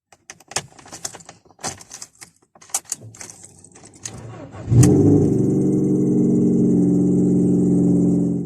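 A Ford Fiesta engine clicks and cranks, then catches and settles into a steady, loud idle rumble through the stock exhaust that continues to the end.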